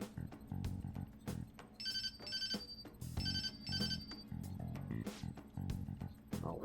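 A phone ringing in the video game Persona 5, a repeating electronic ringtone in short melodic bursts, moderately quiet over a low background.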